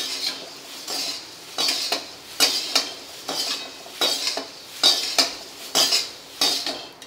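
A utensil stirs poha roasting in a pan for bhajake pohe chivda, making repeated scraping clinks of metal against the pan in a steady rhythm, close and fairly loud, with a soft dry rustle of flakes between strokes.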